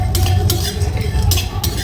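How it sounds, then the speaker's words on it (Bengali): Cinnamon, fennel and cumin dry-roast in a pan as a utensil stirs them, giving close, repeated scraping strokes over a low rumble. "আমি এটা ভালো করে একটু ভেজে নেব।"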